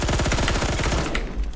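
Rapid automatic fire from a Colt SMG 633 in a video game: a tight, steady stream of close, loud shots lasting about a second before tapering off.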